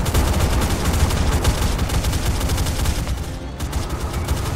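Dense, continuous ship-gun and anti-aircraft fire in a naval battle video game, a steady loud barrage of overlapping shots with no pauses across the whole stretch.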